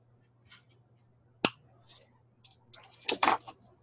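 Cutters snip the excess core wire off a Viking knit end cap: one sharp, close click, with a few lighter ticks and handling clicks before and after.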